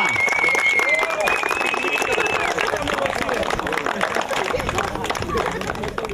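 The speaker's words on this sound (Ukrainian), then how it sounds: "Аплодисменти команді Бререса!" A crowd at a district football super cup match applauds a team, steady dense clapping with a whistle and scattered voices throughout.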